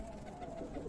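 Breeding pigeons, including a golden pigeon, cooing softly in a low, continuous murmur at close range, with no talk.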